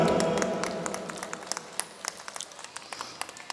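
Applause for donors at an outdoor Ramlila performance in Azadpur, a dense crowd clapping that starts thick and fades into scattered individual claps, moderately distant.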